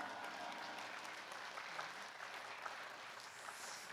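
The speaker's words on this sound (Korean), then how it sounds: "할렐루야로 박수로 환영하겠습니다" A church congregation applauds steadily to welcome a missionary at a Wednesday evening worship service, a dense, even wash of clapping that fills the room without pause.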